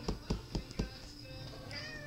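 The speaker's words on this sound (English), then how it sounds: "Oh, what a beautiful kitty she is." Indoor cat meowing several times in quick succession, a series of short, fairly quiet calls close by, followed by a softer higher meow near the end.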